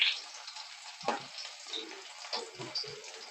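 Chopped onion and garlic fry in a pan for mustard greens, a soft steady sizzle with a few stirring scrapes, fairly quiet and close, with no talking.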